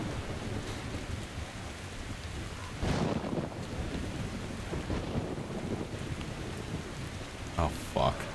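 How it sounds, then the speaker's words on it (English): Heavy rainstorm in the video game Metro Exodus, a steady roar of rain and wind with a loud thunder crash near the three-second mark and a sharper crack near the end. "The storm's too bad."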